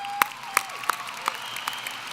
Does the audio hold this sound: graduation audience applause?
yes